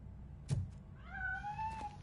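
A cat meows in a video game: a soft thump, then one drawn-out, rising and falling meow, quiet against a low background hum.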